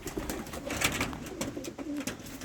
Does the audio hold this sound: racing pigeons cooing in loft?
yes